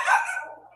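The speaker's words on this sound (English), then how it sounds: "and my dog's barking." A single dog bark, sharp and fairly close, trailing off quickly with no other sound around it.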